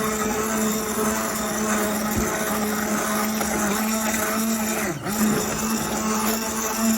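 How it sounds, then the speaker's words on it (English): A kitchen blender runs steadily at high speed, pureeing soft cooked apples for apple butter. The motor gives a loud, constant whine with a brief dip in pitch partway through as the load shifts. "The apples are very soft, so I'm gonna go ahead and blend these up."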